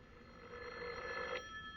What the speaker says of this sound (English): Give me that phone, Zuki. I'll call that Mel and really tell him what I think